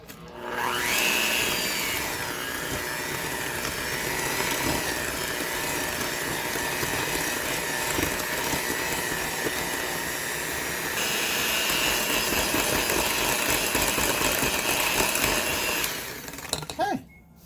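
Vegan cookie batter with eggs being mixed by an electric mixer, a steady loud whirring drone running continuously for about sixteen seconds before cutting off abruptly.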